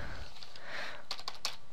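A handful of quick keystrokes on a computer keyboard while entering text in an image editor, soft and close, after a brief quiet pause.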